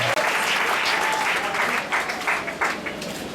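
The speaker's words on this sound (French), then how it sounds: "On va accueillir avec beaucoup d'applaudissements." Audience at an official investiture ceremony in Kinshasa breaks into sustained applause, dense clapping from a large crowd that stays strong throughout and eases slightly near the end.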